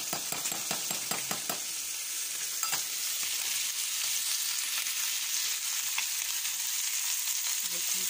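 Pepper paste and white pepper go into a hot pan and sizzle loudly and steadily while a spoon scrapes and taps several times early on, then the frying hiss carries on alone.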